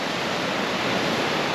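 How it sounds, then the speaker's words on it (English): Rough sea water off Boca, Jamaica churns in a steady, loud, hissing wash with no break or talk during a fishing trip along the rocky shore. "Rough water, my boy."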